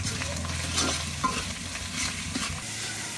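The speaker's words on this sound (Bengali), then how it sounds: "বাটা মশলাগুলো তেলে কিছুক্ষণ ভেজে নিচ্ছি।" Ground spice paste frying in oil for a jackfruit and beef curry, a close, steady crackling sizzle with scraping stirs of a spoon in the pan, no talking.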